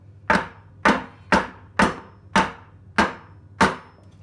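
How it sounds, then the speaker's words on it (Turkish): A glass baking dish of trileçe batter is rapped on a kitchen countertop seven times in a steady rhythm, each a sharp, close knock with a brief ringing tail, over a low constant hum. "borcamımı tezgahımın üzerine birkaç kez vurmak istiyorum"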